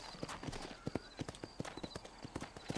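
Horse hooves clip-clop at a steady trot in Red Dead Redemption on Nintendo Switch, a rhythmic run of sharp, close hoof strikes with no talk over them.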